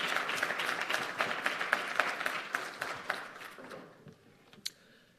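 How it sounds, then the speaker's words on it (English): At an IST-Africa conference, the audience claps for the panelists in a fairly quiet, dense applause that fades out after about four seconds, ending with one sharp sound. "a round of applause for our panelists"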